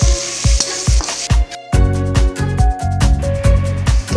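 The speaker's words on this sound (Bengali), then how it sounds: "পেঁয়াজটা কিছুক্ষণ ভেজে তারপর এলাচ, তেজপাতা, দারচিনি, গোলমরিচ দিয়ে দিই, দিয়ে আবার নাড়তে থাকি।" Onion fries in hot oil with cardamom, bay leaf, cinnamon and pepper, sizzling steadily while a spoon stirs it in quick, repeated scraping strokes close by.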